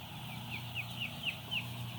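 Broiler chickens in a closed-house poultry barn at night with minimal ventilation, giving a series of high, evenly spaced peeping calls over a steady low mechanical hum.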